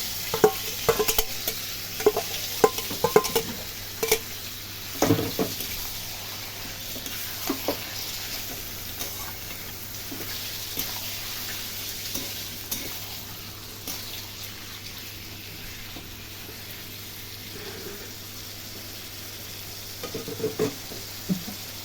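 Duck meat tumbles into fried onions in oil, a sustained sizzle broken by scraping stirs and clunks against the pan, busy at first and then settling into a quieter bubbling fry.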